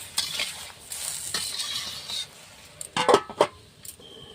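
A ridge gourd and potato posto curry with soybean being stirred in a pan, soft sizzling under scattered scrapes and a few sharper clinks of the spoon against the pan, fairly quiet and close.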